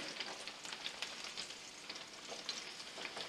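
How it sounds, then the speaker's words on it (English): Onions sauté in oil in a pan with a steady, fairly faint sizzle and crackle, plus occasional stirring scrapes, and no voices. "we're going to just start sauteing them down with just the oil on it."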